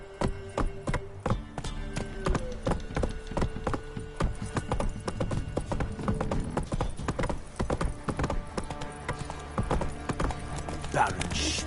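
Roach the horse's hooves clip-clop in a steady walking rhythm on a video game path, close and continuous, with faint game sounds and a brief whinny-like cue.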